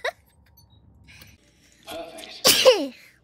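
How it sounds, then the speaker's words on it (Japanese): A close, loud sneeze from a live streamer with rhinitis comes after a stretch of soft vocal sounds and murmured talk, then trails off into a brief voiced exhale. "ちょっと鼻炎でね、 くしゃみ出ちゃう。"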